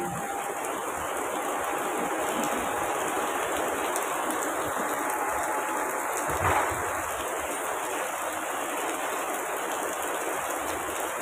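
Heavy rain pouring down in a steady, dense hiss, constant and fairly close, with one brief louder splash or thump midway and no talking.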